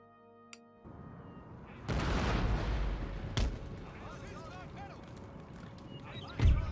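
Artillery cannons booming in Empire: Total War battle, several heavy blasts scattered over a continuous rumbling battlefield din, with a loud close boom near the end.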